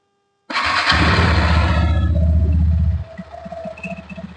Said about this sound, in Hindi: सो ये ऐसे कुछ एग्जॉस्ट नोट आ रहा है इसका।